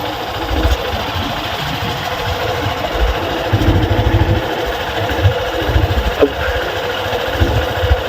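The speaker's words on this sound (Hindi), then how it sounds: "ये छोटी सी बाइक राइड है" A small motorbike engine runs steadily during a ride along a canal bank past fields, a continuous close low rumble with faint rattles and wind.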